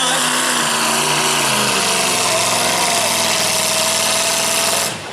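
A modified mini tractor runs hard down a pull track at a night event, its engine a loud, steady roar that shifts pitch as it goes, with a faint announcer voice in the background and the roar dropping off at the very end.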